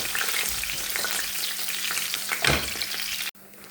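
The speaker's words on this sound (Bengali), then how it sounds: "করলার ঝোল আমার হয়ে গেছে, আমি এখন রসুন বাগার দিতেছি।" Garlic sizzles and fries in hot oil as a tempering for a bitter gourd curry, a steady loud crackle with a stronger burst near the end before it cuts off abruptly.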